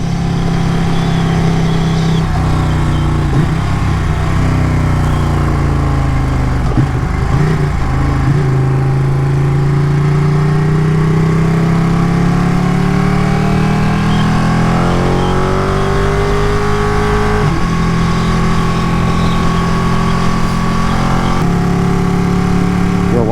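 A Ducati 959 Panigale motorcycle engine drones steadily while riding, its pitch rising and falling through gear changes and throttle shifts, loud and continuous with constant wind rush throughout.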